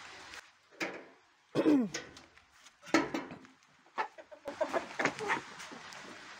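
Broiler chickens cluck and squawk in short bursts, fairly close, with a faint rustling farmyard background between calls.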